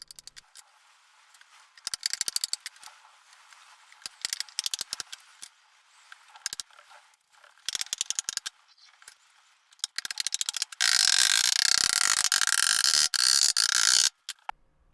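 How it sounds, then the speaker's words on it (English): Bursts of rapid mechanical clicking while staples are driven into a wooden back panel of a small lumber-saving shelf, in short clusters, then a sustained loud, dense rattling stretch near the end. "Now I'll attach these to the back using wood glue and staples."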